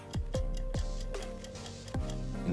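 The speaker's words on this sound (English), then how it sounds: "I didn't use a mechanical Pomodoro like this. I found the ticking really annoying." A mechanical Pomodoro timer ticking: a few sharp, close ticks at an uneven pace over a low steady hum, with no voices.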